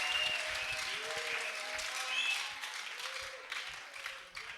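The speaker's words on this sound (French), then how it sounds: "Applaudissons pour le Seigneur." Congregation applauding during a French- and Lingala-speaking church service, a sustained wash of clapping with a few shouts mixed in, fairly distant and steady.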